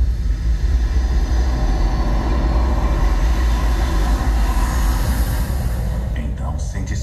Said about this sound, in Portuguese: até o estrondo de um motor a jato